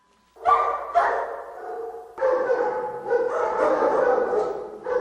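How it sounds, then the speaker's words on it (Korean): Several dogs barking repeatedly near a village entrance, loud yaps and woofs overlapping in a busy, continuous chorus that starts after a brief quiet moment. "개들 또한 립이 지나가자 마구 짖어댔다"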